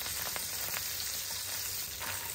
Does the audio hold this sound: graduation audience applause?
no